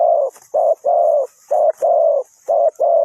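A dove coos repeatedly, giving a close, steady run of low, hollow notes in a broken rhythm with brief pauses between them. The birdsong is heard alone.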